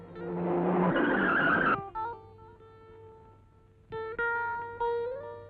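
A car skids with a loud, drawn-out tire squeal that stops abruptly, followed by engine revving and synthetic-sounding tones.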